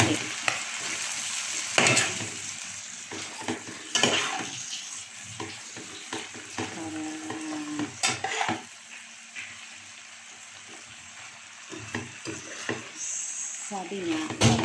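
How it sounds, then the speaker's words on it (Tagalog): Kangkong frying and being stirred in a pan, a soft continuous sizzle broken by scraping utensil strokes and clinks, with talk heard intermittently over the cooking. "nilagyan na natin ang kangkong. Siyempre, halo-haloin ng konti."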